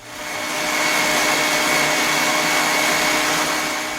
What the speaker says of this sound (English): we're going to whisk the egg whites up to meringue. I'm going to do that by hand. With one of these handheld